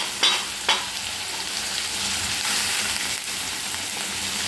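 Onion, carrot and capsicum sauté in a pan with a constant bright hiss, and two quick utensil clacks against the pan near the start. No voices are heard.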